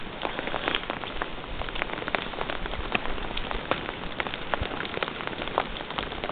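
Hail patters densely and continuously on surfaces during a storm in Yosemite, a steady close hiss of many small impacts with no voices.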